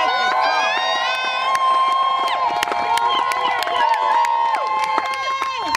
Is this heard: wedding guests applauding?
yes